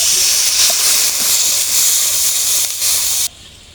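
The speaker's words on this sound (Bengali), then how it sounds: "ঝোলটা আমার ফুটে উঠেছে" Fish curry broth with turmeric, small pona fish and green brinjal boiling in a pot, a steady close hiss and bubbling that runs loud for about three seconds before cutting off abruptly.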